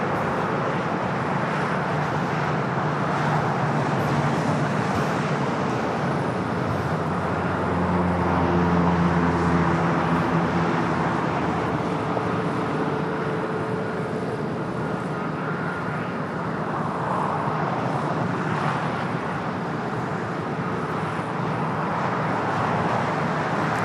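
Airliner, a Boeing 787 Dreamliner, at LAX airport, a broad steady roar of jet engines that swells and holds across the stretch, heard from a spotting position with no talking.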